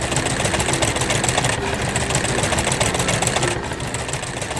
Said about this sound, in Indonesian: Traktor kuning berjalan sambil membawa hay.